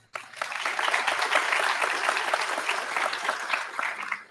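Sustained audience applause at an evening summer graduation ceremony, a dense, steady wash of many hands clapping that starts abruptly and holds at full strength throughout, with no talk over it.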